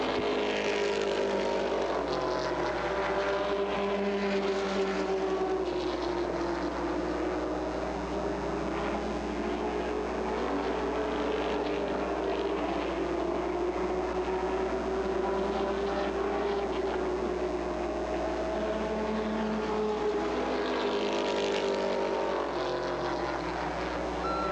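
Late model race cars racing at Peach State Speedway in Jefferson, Georgia, a continuous loud engine roar with rising and falling pitch as the pack circles, without a break.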